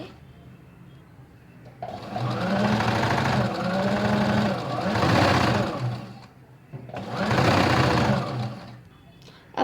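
A sewing machine stitching a kurti collar, running in sustained bursts with pauses between them, loud and close.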